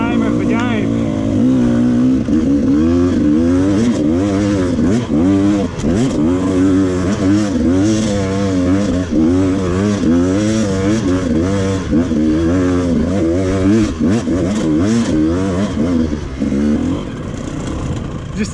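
An enduro motorcycle racing in the Tenterfield Terror grassroots hard enduro revs hard and close, its engine pitch constantly rising and falling as the throttle works, a continuous loud drone throughout.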